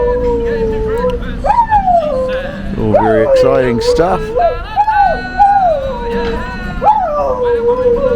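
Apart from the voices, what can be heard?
dog howling along to guitar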